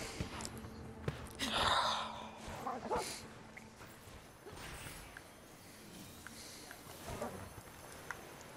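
Hunting dog companion in Monster Hunter Rise Sunbreak giving a few yips and barks with whimpering, scattered over game sound effects and background din.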